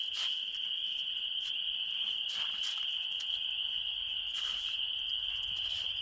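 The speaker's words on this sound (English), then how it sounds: "You hear those frogs?" Outside an off-grid cabin in early spring, a dense chorus of small frogs trills continuously at a steady pitch, with louder individual peeps popping out now and then, no talk.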